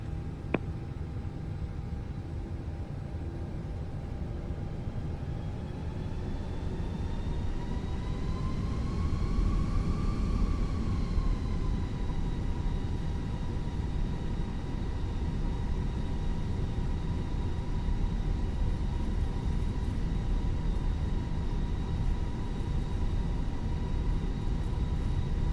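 An Airbus A320-200 takes off in a flight simulator as a steady engine roar with a whining tone that rises in pitch and then settles, holding at a constant level throughout.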